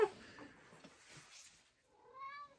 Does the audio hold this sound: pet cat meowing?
yes